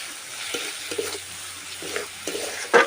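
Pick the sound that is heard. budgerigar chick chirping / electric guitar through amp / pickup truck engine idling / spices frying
spices frying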